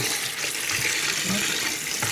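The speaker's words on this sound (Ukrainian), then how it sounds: "Я вже другий раз водою промиваю." Tap water runs steadily into a sink while salted ruffe fish are rinsed under it, a continuous close splashing hiss with small shifts in tone as the fish are handled.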